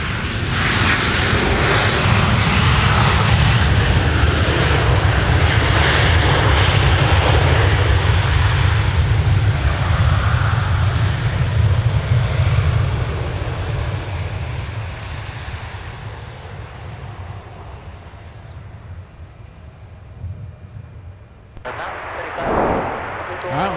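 An airliner lands at Minneapolis–Saint Paul airport, its engine roar loud and broad at first, then slowly fading as it rolls out, with a brief sharper noise near the end.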